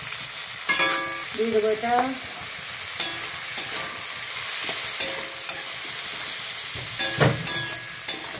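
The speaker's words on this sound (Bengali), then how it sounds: "ক্যাপসিকাম দিয়ে একটুখানি ভাজবো।" Capsicum frying in a pan for chicken fried rice, a continuous sizzle with scraping spatula strokes and clanks against the pan, close; someone speaks briefly early on.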